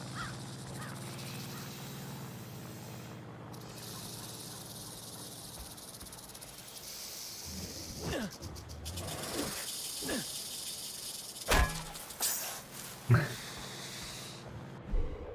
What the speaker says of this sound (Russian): Это змея, я слышу, но не вижу.